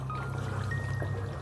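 Homestyle Bengali fish curry with potato and papaya being poured from the cooking pot into a large bowl, a steady continuous liquid pour over a low hum.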